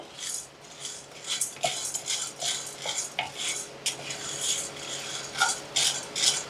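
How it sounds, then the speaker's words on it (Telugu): Chana dal is stir-roasted in a pan until brown, with a spoon scraping and clinking against metal in irregular bursts alongside a faint dry rustle of the lentils, close and moderately loud. "శనగపప్పు కూడా మనం బ్రౌన్ కలర్ వచ్చేంత వరకు వేయించుకుందాము"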